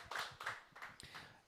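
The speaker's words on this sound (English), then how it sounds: "How about another round of applause for all of our DNA players and for Colt Mercer?" Audience at a high school football coach's show for the Grapevine Mustangs claps in a brief, faint, evenly paced patter of a few hands for under two seconds.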